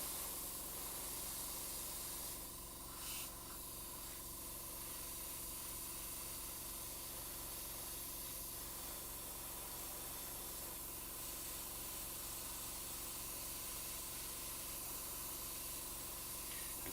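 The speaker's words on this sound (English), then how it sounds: "we're also going to be airbrushing in some browns in on this as well" Airbrush spraying paint onto miniatures, a steady soft continuous hiss of air and paint that holds evenly for the whole stretch at low level, with no talking.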